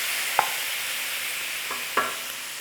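Minced meat and garlic sizzle steadily in a hot pan, with a few brief scraping stirs of a utensil over the continuous frying hiss and no talk.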